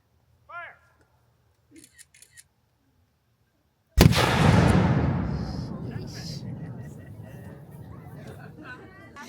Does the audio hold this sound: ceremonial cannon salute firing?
yes